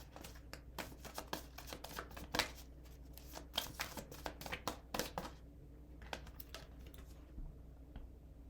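Tarot cards shuffled up close in quick, irregular flurries of crisp riffles and soft slaps, with brief pauses between bursts.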